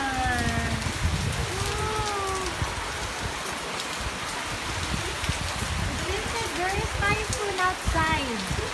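Heavy, typhoon-like rain pours outside in a steady, dense patter, while a person talks over it throughout.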